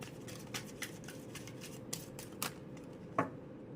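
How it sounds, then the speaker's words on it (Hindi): Tarot cards being shuffled by hand in a fortune-telling reading, a run of soft crisp riffling taps building to a sharper final slap, close and alone without speech. "last shuffle"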